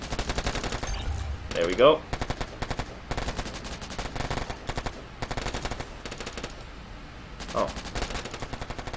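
Machine gun fire in the online war video game Warfare Online, rapid bursts of automatic shots in repeated stretches with short gaps, loud and close, with someone speaking briefly over it.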